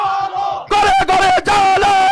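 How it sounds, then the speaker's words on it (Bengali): A rally crowd in Narayanganj loudly chanting political slogans in unison, the shouted phrases rising in strong repeated bursts over a background of rhythmic drumming. "যে বন্ধুরা স্লোগান দিচ্ছেন, মেহরবানি করে স্লোগান বন্ধ করুন।"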